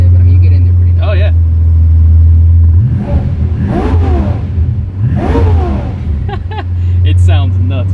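A V12-powered Toyota Supra idles with a deep, steady rumble, then is revved sharply twice to about 3,000 RPM, each rev rising and falling back quickly, loud and close up.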